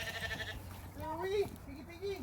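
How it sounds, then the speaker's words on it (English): Hungry goats at feeding time at a goat rescue give a few short bleats, some brief and high, while people talk nearby. "you guys could watch the fun with a bunch of hungry goats"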